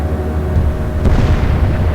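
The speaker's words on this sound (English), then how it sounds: "Huge explosion." Torpedo hitting a tanker in the naval video game Atlantic Fleet, a loud sustained rumbling boom that rolls on for about two seconds with a sharper burst in the middle.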